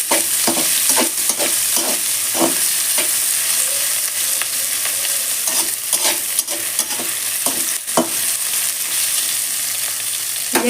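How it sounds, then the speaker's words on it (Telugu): Ivy gourd pieces frying in a little oil in a pan, a steady loud sizzle broken by repeated scraping stir strokes throughout, with no talking. "డైరెక్ట్గా మనం వేయించుకున్న పెన్నం పైన దొండకాయలను వేసేస్తున్నాం. కాస్త నూనెలో అవి"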